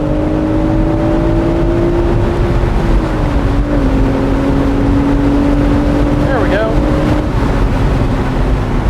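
A manual BMW Z4 with a B58 engine pulls at wide open throttle, its steady engine drone rising in pitch then dropping with a gear change, heard from inside the open roadster over wind rush and talking.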